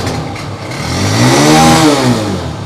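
A 2021 Honda CB 150F motorcycle engine revs up close, the pitch rising to a loud peak and then easing back down in one smooth surge.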